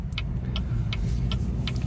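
A car picks up speed on a road with a 30 speed limit during an adaptive cruise control test drive. Its steady low engine hum carries a soft, regularly repeating tick, heard from inside the cabin.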